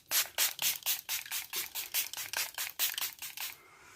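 Primark makeup setting mist sprayed in a quick series of about a dozen short, breathy hissing puffs, close up and evenly rhythmic, ending in quiet.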